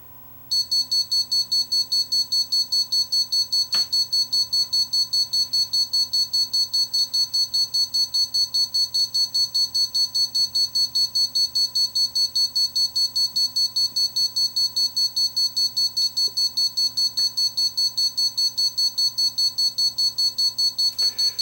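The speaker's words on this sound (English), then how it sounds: "So the alarm should sound in about 3 seconds." A VFD alarm clock beeps in a fast, steady, continuous pattern for about twenty seconds, high-pitched and loud, with no voices.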